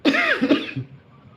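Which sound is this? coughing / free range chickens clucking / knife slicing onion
coughing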